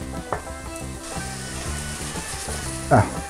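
Rice fries in a pan with softened vegetables for Lenten stuffed dry peppers, giving a steady low sizzle under prominent background music.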